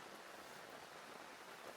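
Steady, soft rain patters on a Snow Peak Takibi camping tarp sheltering a campsite, a continuous faint hiss with no voices.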